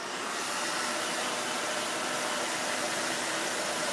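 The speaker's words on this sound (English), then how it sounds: "I'm going to give these a quick blow dry." A handheld blow dryer runs continuously up close while it dries freshly painted wine tumblers, a steady loud whooshing hiss of air and motor whine with no pauses and no talking.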